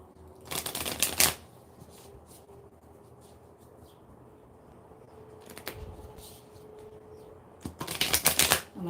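Tarot cards being shuffled in quick riffling bursts, one near the start and another at the end, with a softer shuffle in between and quiet room noise during the pauses.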